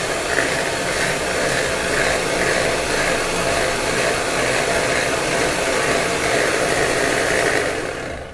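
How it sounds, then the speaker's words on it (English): A stand mixer on its lowest setting whips Nutella mousse with a constant, loud whirring motor drone and a faint rhythmic churn that stays steady and unbroken throughout. "slowly, on setting 1 of your stand mixer over here, start whipping it like this"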